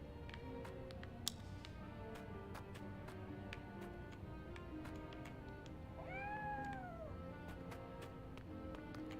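A cat gives a single drawn-out meow in the Triangle Strategy game, rising then falling, moderately loud over a steady ambient background with regular faint ticks.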